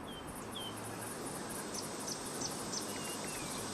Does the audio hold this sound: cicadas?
yes